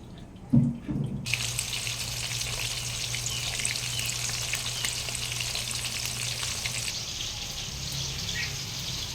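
Dog treats fry in a pan, a loud steady sizzle that begins abruptly after a brief clatter and keeps hissing evenly close by.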